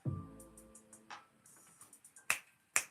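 Several sharp finger snaps, sparse and irregular, with the last two loudest and most distinct, following a brief low voiced sound at the start; close and fairly quiet overall.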